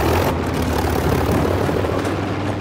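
A steady, loud propeller airplane drone from the World War II game Battlefield V, continuous and close throughout with no talk.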